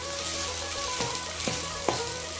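Egg and potato fry and sizzle in a pan with steady crackle, while a utensil stirs and scrapes three times through the mix.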